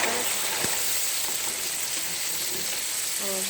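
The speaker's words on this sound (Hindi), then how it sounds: "अब हम इसे करेंगे अच्छी तरह मिक्स और अच्छी तरह भूनेंगे इसे 2 से 3 मिनट तक।" Carrots and peas sizzling and frying in a pan for sabzi pulao, a steady loud crackle with a couple of brief stirring knocks, no talk.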